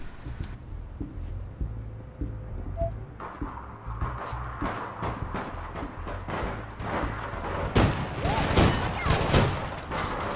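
Gunfire in the online game APB Reloaded, a rapid series of sharp shots that grows denser and louder toward the end, with quieter background game sounds between bursts.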